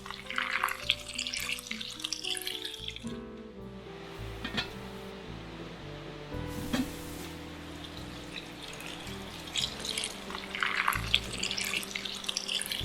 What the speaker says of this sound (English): Add 2 to 3 cups fresh water to the already cooked herbs.